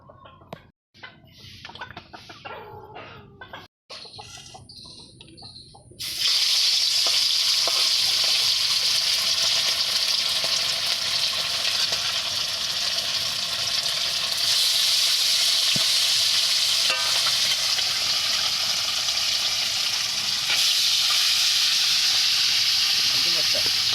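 Pabda fish rubbed with salt and turmeric hits a hot wok. After a few quiet seconds, a loud, steady, hissing sizzle starts and carries on close by.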